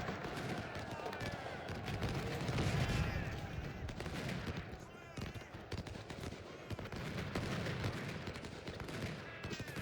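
Cannon blasts and massed musket fire in the Civil War strategy game Ultimate General: Civil War form a dense, continuous rattle of gunshots with heavy booms, loud and sustained throughout.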